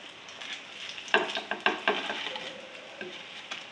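Pakoras drop with soft plops into a simmering pot of Punjabi kadhi, a quick cluster of wet splashes over a steady bubbling hiss.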